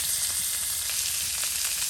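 Snakehead fish curry fries in a pan with a dense, steady hiss of sizzling oil, loud and close, continuous with no voices.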